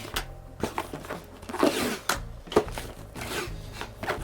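A parcel being unwrapped by hand, with close rustling, scraping and tearing of packing material in uneven bursts and short rubbing strokes, fairly quiet and with no talking.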